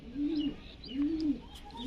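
High-flying pigeons coo in repeated low, rolling calls, three throaty phrases in steady succession, fairly close with faint background chirps.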